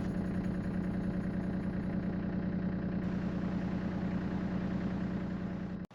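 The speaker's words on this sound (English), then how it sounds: "The tractor has arrived." A newly arrived farm tractor engine idles steadily and close by, a constant low diesel rumble with a firm hum that runs unbroken for nearly six seconds before cutting off sharply at the end.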